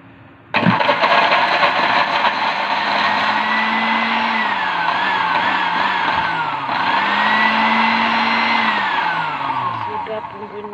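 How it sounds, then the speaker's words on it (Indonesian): Electric kitchen blender grinding a spice paste for Madiun-style sambel tumpang, switching on abruptly and running loud and steady for about ten seconds, its motor pitch wavering slightly as the blades churn. "Sesudah itu kita blender dulu bumbunya."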